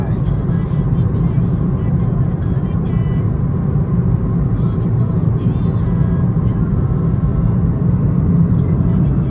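Volkswagen Golf GTI Clubsport, 300 bhp front-wheel-drive, heard from inside while driving, a steady loud engine and road rumble throughout with no pauses.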